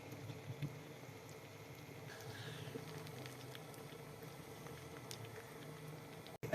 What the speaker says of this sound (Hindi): पराठे को फ्राई कर लेंगे हम माशाल्लाह जी। ये बिल्कुल हल्की आंच पे।